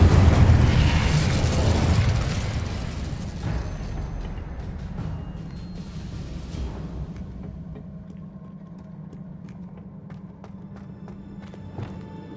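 An Incendio fire spell in Hogwarts Legacy bursts with a loud whooshing blast that rumbles and crackles, then fades over several seconds into a low lingering hum.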